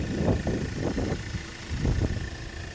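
A 2015 Hyundai Creta SX with a 1.6 diesel engine idles nearby, giving a steady low rumble with soft rhythmic pulses and a faint constant whine above it.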